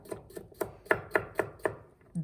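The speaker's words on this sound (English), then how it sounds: "I'm also gonna just cut off a couple of florets" A knife chops through broccoli stems on a cutting board, about eight crisp, evenly spaced strikes that grow slightly stronger midway, followed by a softer dull knock, close and unaccompanied by voices.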